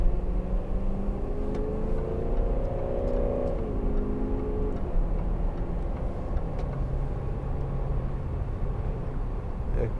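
A 2012 Range Rover TD V8 Westminster diesel accelerates hard from inside the cabin, a low engine drone with a rising tone that drops at a gear change, then a steady road rumble.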